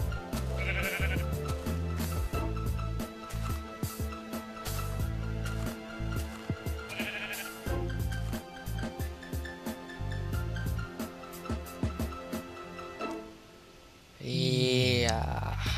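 Sheep bleating in the Minecraft video game, several short bleats at intervals, heard over steady background game music with a louder burst near the end.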